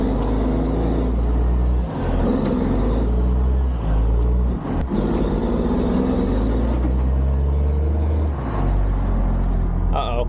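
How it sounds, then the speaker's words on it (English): Army truck engine rumbling under heavy load while towing a stuck Jeep up a steep, curvy sandy hill off-road, a loud continuous low drone with surging revs and brief dips. "Buried her back down, so just tug it out with the army truck again."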